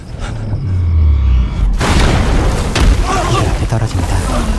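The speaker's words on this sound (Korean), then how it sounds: "아까 뭐가 쿵 하는 소리가 나던데" A heavy boom as a sphere crashes down in a dystopian drama, a deep low impact followed by a broad rumbling wash of debris and noise that lingers for several seconds.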